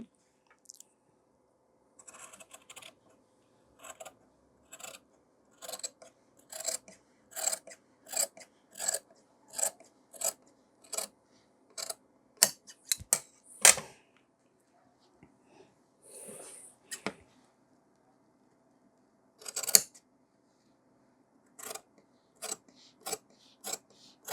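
Scissors cutting cloth for a men's short kurta, with a long series of short, crisp snips in steady bursts and brief pauses, close and alone.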